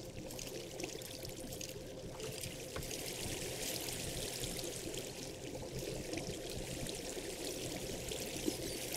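Flowing water in the video game Minecraft: a steady, continuous rushing and trickling wash, moderately quiet and unbroken throughout.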